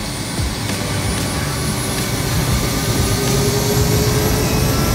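A Bell 206 helicopter's turbine engine spools up during startup, a loud, close, continuous whine with a rising high tone over a dense low rumble and no speech.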